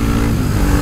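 Motorcycle in city traffic, a loud close engine drone with a throaty rumble, brief and steady, heard alone.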